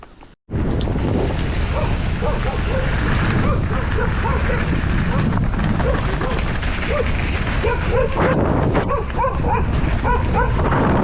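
A large dog chasing a bicycle rider on a rural ride barks repeatedly in quick bursts, half buried under constant heavy wind roar, with a voice briefly audible.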